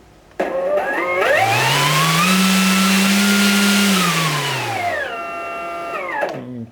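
Electric motors on an inverted V-tail pusher drone spin up sharply from quiet, hold a loud, steady whirring hum with a slight pitch rise, then wind down and stop, heard close and alone.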